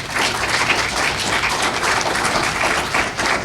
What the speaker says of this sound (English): join me in applauding the women